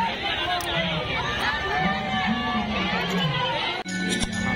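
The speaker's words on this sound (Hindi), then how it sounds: "यहाँ का भीड़ देखिए कितना ज़्यादा है बहुत ही ज़्यादा" A large crowd mills at a Mahashivratri Shiv procession, a continuous close hubbub of overlapping voices and chatter with occasional clinks, steady throughout.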